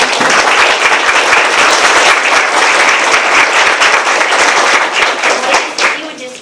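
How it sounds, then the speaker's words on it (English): Loud, dense applause fills a school board meeting room, with many hands clapping close by in a steady wash that tapers off near the end. "give them a round of applause"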